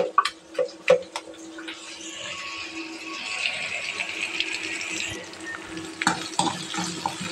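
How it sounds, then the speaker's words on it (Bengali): Onion, garlic, shrimp and dried chili sizzle steadily in a pan, with a few sharp utensil knocks at the start and end over a continuous fry hiss, close and fairly loud. "এই সাইডে পেঁয়াজ রসুন চিংড়ি মাছ শুকনো মরিচ সব টানতেছি"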